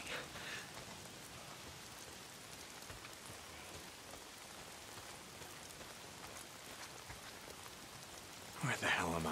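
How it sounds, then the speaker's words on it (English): Steady rain falls throughout in the video game Days Gone, a dense hiss of drops on a surface, with a brief louder patter near the end. "If it's not the freaks, it's the goddamn rain. Why is it always raining?"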